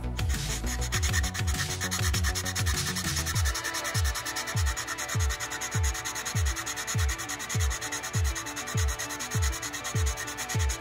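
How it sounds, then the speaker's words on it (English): Sanding wood to remove black scorch marks while making a guitar hanger, a steady abrasive rub with regular rhythmic strokes about every half second, close and continuous with no voices. "I tried to get all of the black scorch marks off using the sander"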